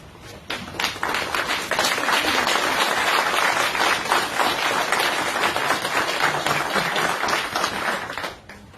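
Applause at a city commission meeting, a room full of people standing and clapping in a dense, steady round for several seconds before it fades out.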